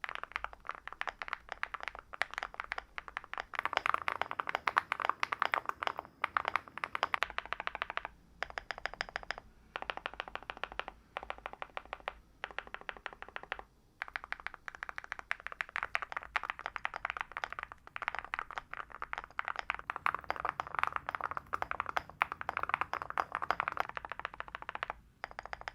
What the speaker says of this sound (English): the main thing that makes the thockiest keyboard is ceramic keycaps